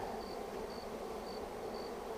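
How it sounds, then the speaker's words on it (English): A dense, steady hum of honey bees surrounds the beekeeper during hiving in April. It is faint but continuous, with a few thin, high tones drifting through and no speech. "So now, as you can see, they're all buzzing around my head here"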